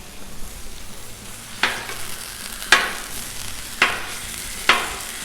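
Ground beef sizzles steadily on a Blackstone griddle, a continuous frying hiss broken by four sharp scraping spatula strikes spaced about a second apart.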